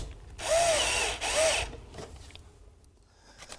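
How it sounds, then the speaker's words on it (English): A power screwdriver drives screws to fix a panel in two short bursts of whirring, each ending with a ratcheting tightening, then faint handling clicks. "Then fix the panel using screws."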